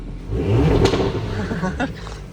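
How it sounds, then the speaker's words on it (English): A 2022 Porsche Macan GTS twin-turbo V6 revs up loudly with its exhaust open in a couple of throaty bursts, a deep rumbling roar with some voices mixed in. "let's give it a couple revs. Oh. That's with the exhaust open."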